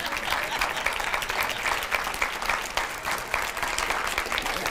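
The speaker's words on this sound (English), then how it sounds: "pitiful clap, pitiful clap" A church congregation claps steadily and evenly for a few seconds, a dense wash of applause at moderate volume with no voices standing out.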